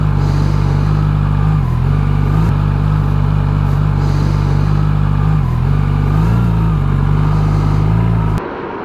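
A Suzuki GSX-S1000GT motorcycle pulls away on a ride, its engine a loud steady drone that rises and dips with gear changes and is heard up close, with no talking.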